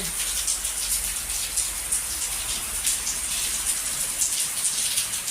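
Steady rain falls outdoors at a rural home, a dense even hiss of drops on surfaces that continues unbroken throughout, with no voices.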